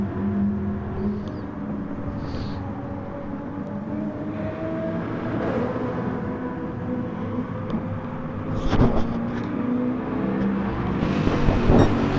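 A Mustang GT4 race car in a racing game climbing a hill at the Nurburgring GP, its engine droning steadily with rising pitch, other cars audible around it and a louder burst near the end.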